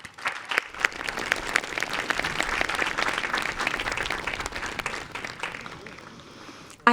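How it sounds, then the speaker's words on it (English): A commencement audience at Georgian Court University breaks into applause, starting with scattered claps, swelling into steady full-room clapping, then fading out near the end. "Let's give them all a round of applause."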